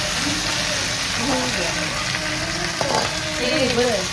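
Cumin seeds sizzle in hot oil for pulao: a dense, steady crackling hiss that runs throughout, with faint voices and kitchen sounds underneath.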